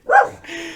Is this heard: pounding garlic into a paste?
no